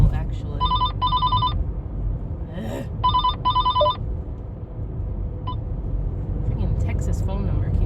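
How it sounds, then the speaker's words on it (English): An incoming call rings on a mobile phone in two pairs of bright electronic ring bursts, loud and close over steady road or car noise with some talk. "Freaking Texas phone number keeps calling me."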